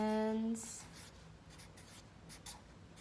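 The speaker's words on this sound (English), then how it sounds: "I'm writing very neatly as I can." Pen writing on paper for a children's Earth Day art picture, a soft brief scratch right after a tone fades, then faint rubbing strokes, quiet and close.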